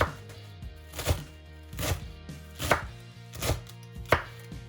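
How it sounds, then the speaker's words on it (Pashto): A knife chopping spinach for a greens, bean and noodle soup: about six firm, evenly spaced thuds on a board, close and clear, with no talking. "دا پالک ریزه کړم"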